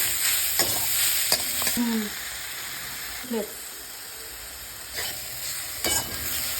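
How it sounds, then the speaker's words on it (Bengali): Grated potato stirred in a pan of hot oil with green chilli and ginger paste: a steady, close sizzle with intermittent scraping strokes of the spoon throughout. "দেবো তেল, গ্রেট করা আলুটা দিয়ে দেবো, একটু নাড়িয়ে চাড়িয়ে নেবো।"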